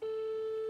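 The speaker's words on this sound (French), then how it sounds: "Ça sonne." A steady telephone ring tone plays over a speakerphone, one continuous faint tone lasting under a second with no talk.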